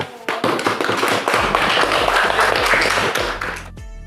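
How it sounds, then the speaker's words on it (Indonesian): Classroom applause from a group of students, brisk sharp claps starting abruptly, close and fairly loud, dying away after a few seconds. "Berikan tepuk tangan."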